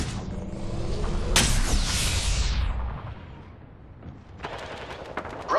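Gunfire in the Apex Legends video game, played on Nintendo Switch in a sniper match, with loud overlapping shots and booming bursts followed by a quieter stretch and a few rapid sharp shots near the end.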